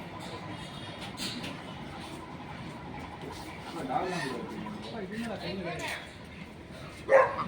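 A dog gives a couple of short barks and yips among people talking close by at an outdoor animal park in Pondicherry, with a louder bark near the end.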